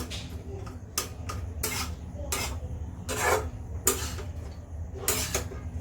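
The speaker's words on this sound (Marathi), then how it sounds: "या ठिकाणी आपल्याला ही सगळी फोडणी चांगल्या प्रकारे भाताला मिक्स करून घ्यायची आहे" Spiced tempering mixed into cooked rice for a South Indian dish, heard as repeated rhythmic scraping strokes of a spoon against the pot, close and moderately loud, about eight distinct passes.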